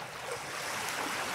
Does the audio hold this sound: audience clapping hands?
no